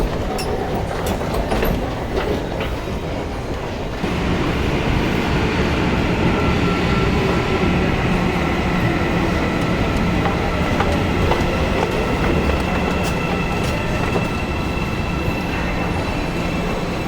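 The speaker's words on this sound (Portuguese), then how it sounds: "A gente tá na metrô Lapa aqui." A metro train rumbles steadily at Lapa station, the end-of-line stop in Salvador, Bahia, with continuous loud rolling noise, clattering wheels and faint squeals over the whole stretch and no talk.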